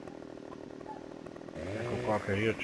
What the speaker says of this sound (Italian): ho un problema con la motosega come al solito